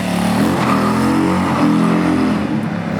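Harley-Davidson Low Rider S 114 motorcycle (2020) accelerating hard through the first gears on asphalt, a loud, close, deep engine roar with rising pitch sweeps, uninterrupted by talk.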